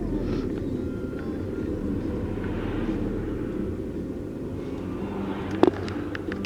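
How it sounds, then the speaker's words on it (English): Several helicopters flying overhead, heard as a steady low droning rumble that persists at moderate distance, with a brief sharp knock near the end. "there are like a bunch of helicopters and they're all going over there"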